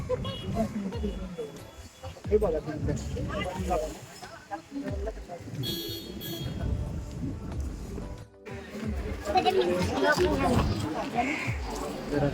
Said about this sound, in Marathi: बघू शकता किती गर्दी आहे इकडे